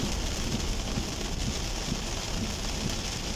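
Heavy rain pours continuously in a loud, dense hiss with faint patter on surfaces, steady throughout.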